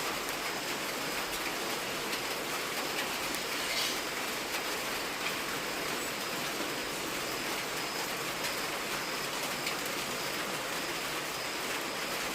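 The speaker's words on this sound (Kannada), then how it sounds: "ಭಾರೀ ಮಿಂಚಿನ ಮಳೆಯನ್ನು" Steady heavy rain pours down outdoors during a thunderstorm, a dense, even hiss of drops on surfaces that holds constant throughout with no voices.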